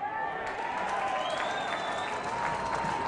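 A stadium crowd at a VFL qualifying final between Williamstown and Casey Demons applauds and cheers a goal, a dense sustained roar of clapping with a whistle-like tone rising through it, no commentary over it.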